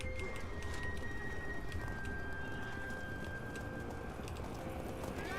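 Horse hooves plod through a snowy forest with branches on the ground in the game Total War: Three Kingdoms, a steady clip-clop held under a constant dense bed of ambient noise and faint bird calls, with no talk.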